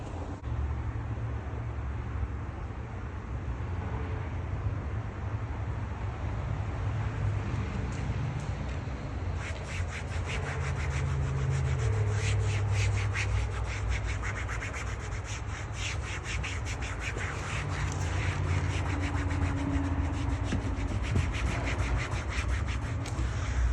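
An applicator rubs ceramic coating onto car trim, a soft, continuous scuffing that goes on quietly throughout and turns busier and more scratchy partway through, alone without voices.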